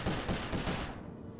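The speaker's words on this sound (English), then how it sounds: "Keep shooting them." Gunfire in the video game Sly 4: Thieves in Time, a rapid loud burst of repeated shots that rattles for just under a second and then cuts off, leaving a brief fading tail.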